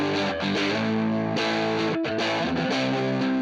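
A solid body electric guitar plays through heavy distortion in a thick, continuous run of sustained chords and notes, with a brief break near the middle and no talking.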